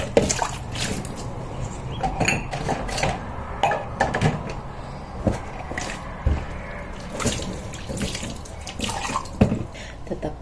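Tap water runs while dishes are washed by hand, with a steady splashing flow broken by frequent sharp clinks and knocks of crockery and bursts of louder splashing, close and clear.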